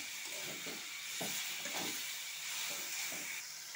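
Mixed vegetables with capsicum and freshly added tomato sizzling in a hot pan for semolina masala pitha, a steady close hissing fry with soft crackles and occasional stirring pops.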